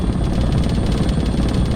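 Simulated helicopter in a desktop flight simulator game, a steady, loud rotor and engine drone with a rhythmic blade pulse that holds evenly throughout, no talking.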